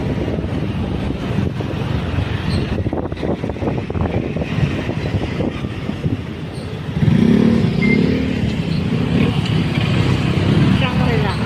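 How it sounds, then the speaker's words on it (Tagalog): Busy road traffic in San Juan City, with a steady rumble of cars and motorcycles passing close by, engines revving, and wind buffeting the microphone, plus a heavier surge of vehicle noise toward the end. "Haba ng traffic ng San Juan City."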